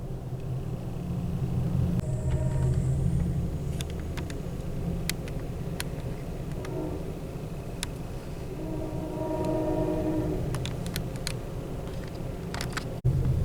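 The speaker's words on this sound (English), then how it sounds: "there is more rail traffic. That's the Union Pacific again" A Union Pacific freight train rumbles steadily along the rails in Cajon Pass, heard from a passing Amtrak train as a continuous low roar with scattered sharp clicks and knocks.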